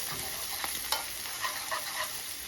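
A steak sizzling steadily in a pan while being pushed to one side, with a few soft scrapes and taps of a utensil over the continuous frying hiss, close and moderately quiet.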